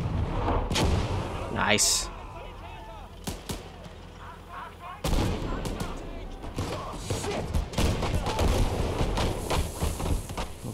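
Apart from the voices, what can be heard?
gunfire and artillery in a WWII video game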